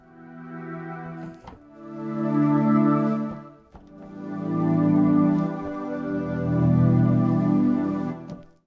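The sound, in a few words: Vital Synth Angelic Pad preset, dry signal without reverb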